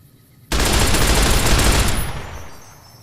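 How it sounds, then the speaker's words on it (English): Light machine gun, an M60-style heavy weapon in the video game Fallout New Vegas, firing one loud continuous burst of rapid shots after a brief quiet start, then trailing off into a fading echo. "I've chosen as my special gun to focus on using a light machine gun heavy weapon, and that operates a bit like this"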